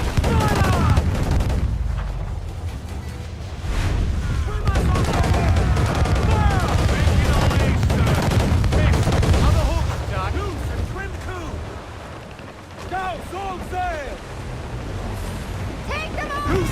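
Ship cannon volleys fire repeatedly during a naval battle in Assassin's Creed 4 Black Flag, dense booming blasts rolling one after another with crew shouting orders over the barrage.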